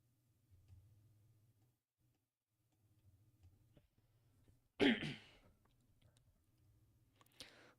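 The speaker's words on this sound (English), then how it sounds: "need to clear my throat" Close by, a single sharp throat clearing cuts through an otherwise quiet room. A faint low hum and a soft later rasp surround it.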